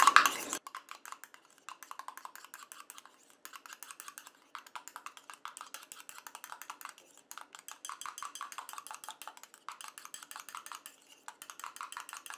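Ingredients for an anti-wrinkle lifting serum being stirred in a small container, giving quick, light clinking taps in steady bursts with brief pauses, close and fairly quiet, with no talking.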